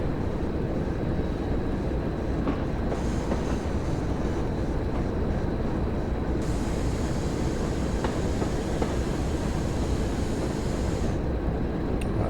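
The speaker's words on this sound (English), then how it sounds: "you've got the insulation of your house between you and the noise of the train" A train rolling along the West Somerset Railway in Train Sim World gives a loud, steady rumble with a faint clickety-clack of wheels on rail joints, continuous and unbroken, with no talk over it.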